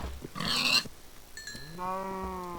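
Pigs in the Minecraft video game during a survival session, with a burst of game noise followed by a pig's tonal grunting squeal, close and clear over a quiet background.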